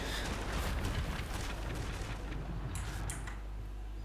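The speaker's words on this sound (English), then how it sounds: "Oh, that's some nice fire effects." Rumbling fire and explosion effects in Hogwarts Legacy, a dense roaring boom that swells, then eases into a lower sustained rumble with a couple of sharp crackles near the end.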